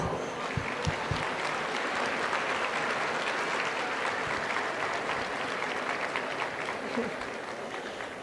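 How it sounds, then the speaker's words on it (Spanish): A crowd applauds steadily and fairly loudly throughout, a dense wash of clapping with a few sharper claps standing out early on. "y ahora nos regalamos todos un aplauso"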